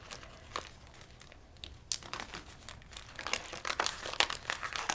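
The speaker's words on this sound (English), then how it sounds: "I'm going to fold my tape," Packing tape is folded over on itself, with crisp crinkling and sticky peeling crackles growing busier and louder toward the end, close up with no voices.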